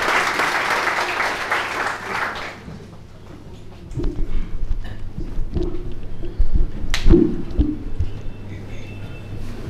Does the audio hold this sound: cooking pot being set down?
no